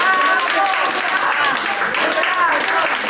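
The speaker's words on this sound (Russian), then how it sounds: "Под звуки русских гуслей зал наполнился аплодисментами." A concert hall audience applauds after a performance of Russian gusli music, a dense, steady wash of clapping that stays loud throughout.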